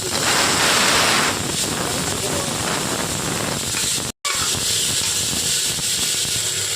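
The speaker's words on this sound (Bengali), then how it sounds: "এটাকে আমি একটুখানি ভালো করে হালকা করে ভেজে নিচ্ছি" Drumstick pieces and tomato fry lightly in a pan for dal, giving a steady loud hissing sizzle throughout, with a brief dropout midway and faint voice underneath.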